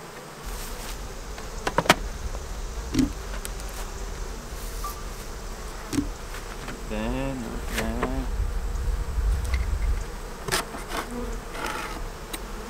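Bees from a swarm that moved into a hive box buzz continuously at a soft, close level, with occasional louder passes and a few light knocks and clicks.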